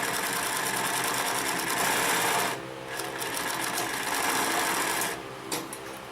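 A Consew 227R-2 industrial sewing machine runs fast through layered fabric seams, a loud, close, steady mechanical chatter with two brief pauses between bursts of stitching.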